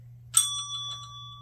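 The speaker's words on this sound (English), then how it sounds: "a set of bells that she had that were gifted to her for her new baby" A set of small bells given as a gift for a new baby rings out in one bright, close cluster of chimes, and the tones hang on and slowly fade over a low steady hum.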